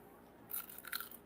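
Crisp crunch of teeth biting into a fried onion ring in batter, a short burst of sharp crackling bites heard close and alone.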